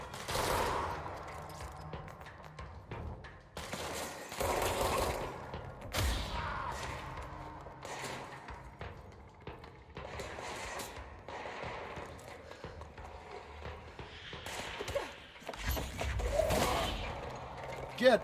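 Bursts of gunfire ring out in the Control video game, dense overlapping shots and thuds stacked over a busy, loud soundscape, with a voice talking briefly through the action.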